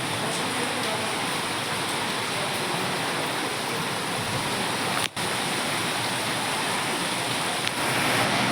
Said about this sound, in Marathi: हवा बघा किती सुटलेली आहे आणि पाऊस पण आहे त्याच्यात.